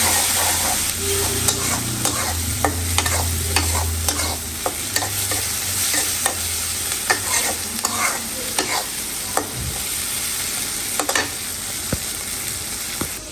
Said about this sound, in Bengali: এখানে চিংড়ি মাছটা কষাই নিয়েছি এখন দিয়ে দিলাম